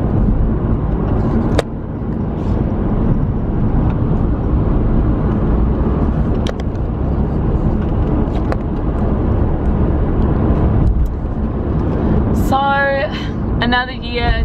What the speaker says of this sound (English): I'm just driving home.